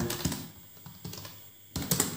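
Keys clatter on a computer keyboard while code is entered into the VS Code editor, in a few short quick bursts separated by brief pauses, close and fairly quiet, with no voices.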